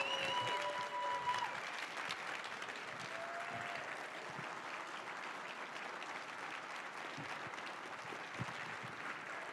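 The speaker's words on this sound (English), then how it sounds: "So everyone give Troy a big thank you and a round of applause." A conference audience at a closing session claps in sustained applause, steady and fairly distant, with a few brief tones early on.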